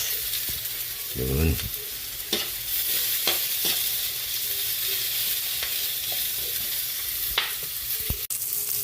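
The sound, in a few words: garlic and onion frying in a pan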